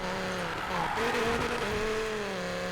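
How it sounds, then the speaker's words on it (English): An SRT Viper engine in the racing game Need for Speed Payback holds a steady, rising drone with a layered, harmonic-rich tone, loud and continuous throughout. "one big thing with this Viper. It sounds fantastic."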